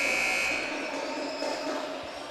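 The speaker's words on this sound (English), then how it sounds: "Gunner, and a shot at the buzzer, no good." A basketball game buzzer blares in a gym, a loud sustained electronic tone that lasts about half a second before fading into crowd noise, then a few faint thumps follow.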